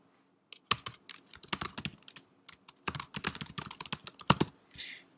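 Close, crisp clatter of a computer keyboard as shortcuts like Command X and Command V are typed while editing Unity code, a rapid run of sharp key clicks in uneven bursts with brief pauses, ending in a softer brushing sound, no voices.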